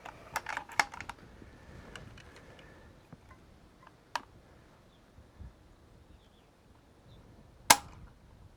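A CZ 527 American bolt-action rifle in 300 Blackout has its trigger pulled, giving sharp, isolated mechanical clicks, close and quiet, with a few small handling taps between them.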